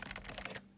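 Keys on a computer keyboard connected to an old eight-bay NAS machine being repurposed are tapped in a quick, faint burst of clicks lasting about half a second, then quiet.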